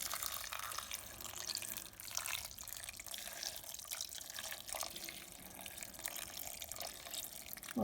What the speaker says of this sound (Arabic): سخنت المي، رح ضيف المي فوقهم